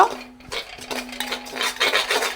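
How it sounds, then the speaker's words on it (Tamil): Grated coconut stirred while roasting in a pan, a dry scraping and rubbing of the spoon against the pan in uneven strokes, close and moderately loud with a faint steady hum behind. "இங்கே தேங்காய் பூ வந்து இந்த பதத்தில் வறுபட்டு கொண்டு இருக்குது"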